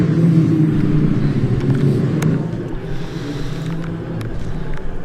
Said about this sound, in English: Now you can see the safety car lights coming on, cars are pulling out